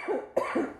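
A single sharp cough breaks in mid-clip, close and fairly loud, from someone cooking in a home kitchen, with a softer voiced throat sound just before and after.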